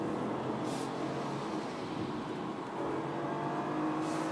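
A 2020 BMW 2 Series Gran Coupe with a 1.5-liter three-cylinder engine, accelerating in Sport mode, gives a fairly quiet, steady drone from inside the cabin with a slight rise in pitch, and no one talks.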